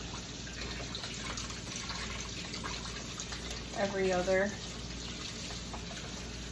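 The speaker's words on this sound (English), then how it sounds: "So I clean their bowls, you know, with soap and water" Reptile food bowls are washed with soap under steady running tap water, a continuous hiss with a brief louder splash midway, while a person talks over it.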